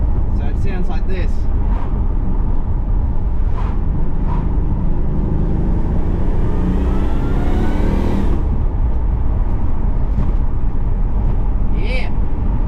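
A Holden Monaro CV6 with electronically controlled exhaust bypass valves rumbles loudly and continuously while driving, its engine note sweeping up during a rev, with road noise and a few sharp clicks.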